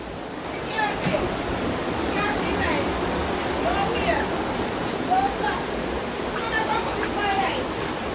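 Flash floodwater rushing in Jamaica, a steady loud broadband roar of moving water throughout, with people talking and calling out over it.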